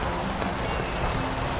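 Steady rain patters on a tent pitched in woodland, a dense continuous hiss with soft drops at close range and no voices.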